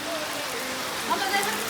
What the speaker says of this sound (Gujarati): વરસાદ તો સારો ચાલુ થઈ ગયો છે